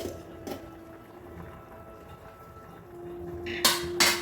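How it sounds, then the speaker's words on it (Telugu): A pressure cooker lid is lifted off after two whistles, with clanks of metal against metal near the end, and a steady tone and quiet kitchen hiss underneath. "కుక్కర్ మూత తీసేసిన"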